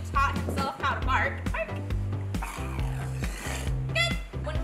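A trained harbor seal gives short, loud, repeated bark-like calls in an indoor holding pool, several sharp barks in quick succession with a trainer's voice mixed in.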